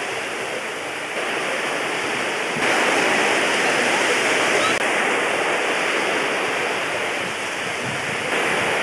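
Sea water at a beach in Brittany, France, a steady, loud broadband wash of surf and splashing that continues unbroken for several seconds, with faint voices mixed underneath.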